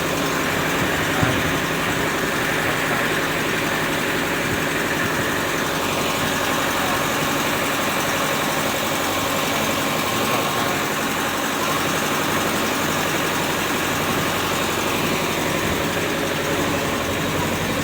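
A boat engine runs steadily while crossing the Mekong River, a constant loud droning hum with vibration and no change in pace throughout.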